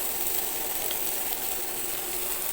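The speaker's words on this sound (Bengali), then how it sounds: "আদা রসুনটাকেও মিনিট খানেকের মতো ভেজে নিচ্ছি।" Ginger garlic paste sizzling in a pan for a chicken curry, a constant soft hiss of frying heard close and alone, no voices.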